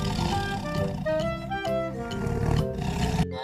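A family of four tigers lets out loud, layered roars and growls that overlap continuously, close and harsh, with no speech.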